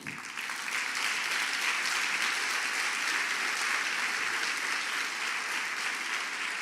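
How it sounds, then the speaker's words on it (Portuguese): A church congregation applauds during an Easter service, a dense, steady burst of many hands clapping that swells quickly and holds for several seconds with no voices over it. "dê 5 segundos de aplauso ao Espírito Santo."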